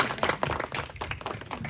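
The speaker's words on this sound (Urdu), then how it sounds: "آپ سب کی بھرپور تالیوں میں" Audience applause at a Nuzol-e-Quran celebration in April 2023: a short burst of clapping from a gathered crowd, with a faint voice mixed in beneath the claps.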